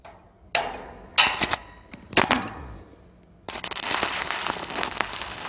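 An arc welder tacks C-channel steel for a house frame, giving several short bursts of sharp crackling sizzle, then a longer continuous frying buzz, close and fairly loud with no speech.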